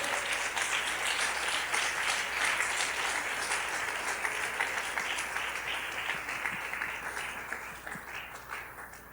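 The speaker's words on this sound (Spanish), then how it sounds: "Dele una ofrenda de palmas al Rey." A crowd applauds loudly and steadily, the clapping sustained for several seconds before tapering off slightly.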